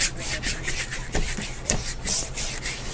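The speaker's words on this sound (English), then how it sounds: "Rub it in here really good." Paint worked into a painting board with vegetable glycerin, a steady dry rubbing and scrubbing by hand, close and fairly loud, with repeated strokes and a few sharper scuffs and no talk.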